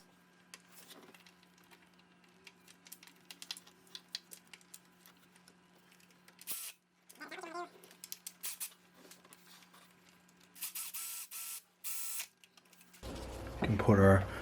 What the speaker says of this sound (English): we can go ahead and throw the belt tensioner back on.